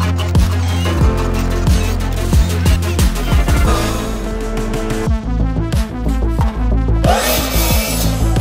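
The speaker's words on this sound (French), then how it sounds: "on vient pré-percer et visser à chaque fois" Terrace deck boards being pre-drilled and screwed on a rooftop, with a series of short, loud power-tool bursts and knocks in an irregular rhythm, close by.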